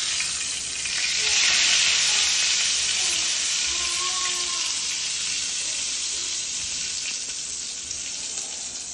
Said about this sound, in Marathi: साईडनी छान असं फ्राय झालेलं आहे आपलं पापलेट